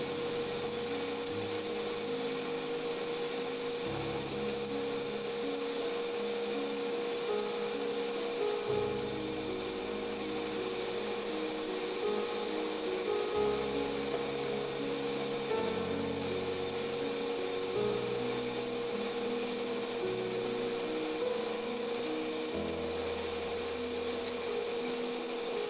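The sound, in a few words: hand grinding the fuller of a sword blade, sped up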